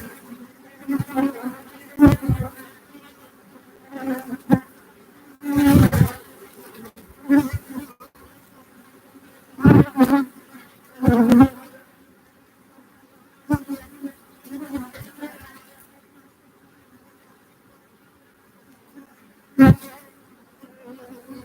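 A large honeybee colony drones steadily with a dense buzz, individual bees passing close in loud bursts over a fainter hive hum that fills the whole stretch.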